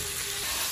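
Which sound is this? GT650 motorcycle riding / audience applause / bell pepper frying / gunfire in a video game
bell pepper frying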